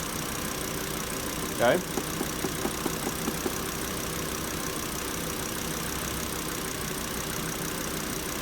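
A 2006 Volvo XC90 engine idles steadily through an air-conditioning refrigerant recharge, a constant low drone running the whole time, with a brief spoken word and a few small clicks near the start.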